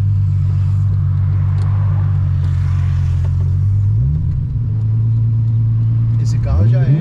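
A six-cylinder Volkswagen Golf engine rumbles loud and close, holding a steady deep idle before being revved up briefly near the middle and again at the end.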